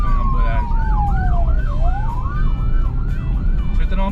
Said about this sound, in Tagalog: padaanin natin itong ambulansya